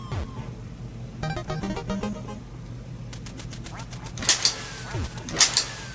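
Ducks quack in the NES game Duck Hunt, short electronic squawks and flapping bursts mixed with game sound effects and a couple of sharp shot blasts near the end.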